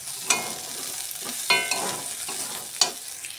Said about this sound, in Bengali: মটরশুঁটি, বিনস, গাজর, আলু এটা ভাজা করছি।